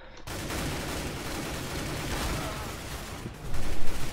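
Sustained AK rifle fire in the game CS:GO, a dense continuous rattle of rapid shots at steady loudness that swells near the end, with no talk.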